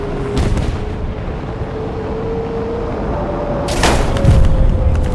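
Bombs dropped from an F-84 jet exploding in War Thunder: two heavy booming blasts, one early and one later, over a steady droning engine tone.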